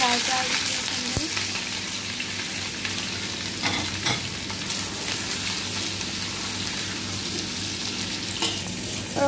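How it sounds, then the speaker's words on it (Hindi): Sliced onions fry in hot oil in a pan with okra being cooked for Bhindi Gosht, giving a steady, close sizzling hiss with occasional crackles and a faint clink of a utensil. "और अब मैं प्याज डाल रही हूँ इसके अंदर।"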